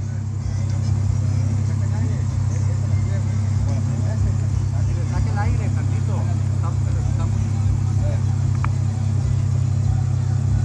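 A jeep engine rumbles steadily off-road as the driver accelerates and eases off, a continuous mid-pitched drone with voices talking over it throughout.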